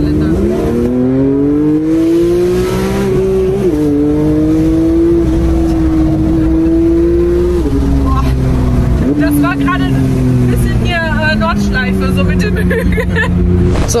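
Loud engine of a Techart GTstreet R Porsche tuned to 800 hp holds a strong, wavering drone that climbs and falls through several revving swells, with exhaust crackle and people talking in the background.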